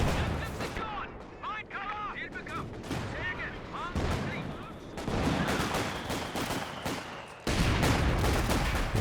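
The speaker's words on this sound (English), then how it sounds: "the machine gun even sets up and starts firing on him" A deployed machine gun firing during a Company of Heroes 2 multiplayer battle, rapid rattling bursts mixed with distant explosions and combat noise, loud and continuous across the scene.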